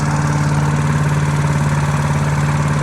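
A Predator 212cc small gas engine powers a Harbor Freight wood chipper running empty with no wood fed in, giving a loud, steady, close-up drone that holds unchanged throughout with no voices.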